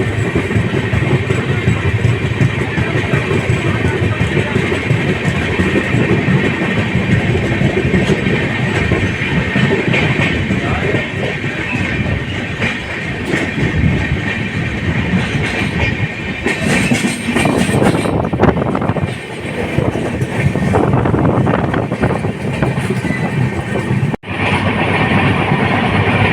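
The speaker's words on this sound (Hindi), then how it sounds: "वर्धा स्टेशन से ट्रेन निकल गए।" Passenger train running on rails after leaving Wardha station on a Durg to Kalyan route, with a steady loud rumble and rhythmic wheel clatter lasting throughout, heard from aboard the train.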